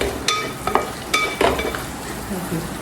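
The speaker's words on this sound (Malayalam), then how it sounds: "പിന്നെ കുറച്ച് പച്ചമുളക്, കുറച്ച് കാഷ്നട്ട്, അപ്പം ഇതെല്ലാം കൂടി ഇട്ട് നമുക്ക് നന്നായി മിക്സ് ചെയ്യാം" Green chillies and cashews being stirred in a pan, with several sharp scrapes and clicks of a spoon against metal over a faint, quiet sizzle.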